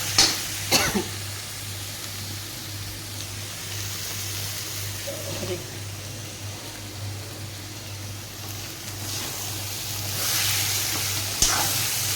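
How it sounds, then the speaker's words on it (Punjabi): Masala spices fry in a pan for stuffed bitter gourd, giving a steady close sizzling hiss with occasional stirring clatter and scrapes. "ਚੰਗੀ ਤਰ੍ਹਾਂ ਭੁੰਨ ਲਈਏ ਜੀ ਮਸਾਲੇ ਪੈ ਗਏ"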